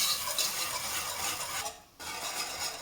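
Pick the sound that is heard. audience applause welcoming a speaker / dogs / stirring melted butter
stirring melted butter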